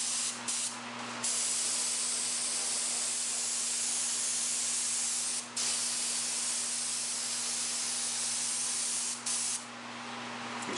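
An airbrush sprays a steady, close hiss, broken only by a few brief pauses.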